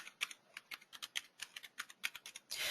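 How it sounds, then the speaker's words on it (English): Fast typing on a computer keyboard, a close, steady patter of individual key clicks at a brisk rhythm, ending in a short rustling burst, with no voices. "I'm just going to kind of quickly type some test data in here."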